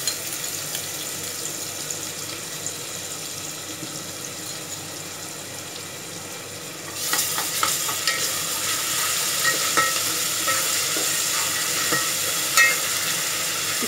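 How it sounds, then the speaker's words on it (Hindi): Garlic and ginger sizzle in hot oil with browned onions for a chicken and vegetable maqluba, a steady frying hiss that grows louder and crackles more as they hit the pan partway through, with stirring clicks and no talk. "चलिए लहसुन अदरक डाल लेते हैं।"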